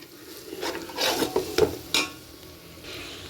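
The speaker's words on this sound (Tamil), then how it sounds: "இப்போ நல்லா மிக்ஸ் பண்ணிக்கலாம். இந்த எண்ணெயில் பிரிஞ்சு வர வரைக்கும் மிக்ஸ் பண்ணிவிட்டு" Masala spices fry in oil for a Hyderabad-style biryani as a spoon stirs and scrapes the pan in several quick strokes over a faint sizzle, heard up close.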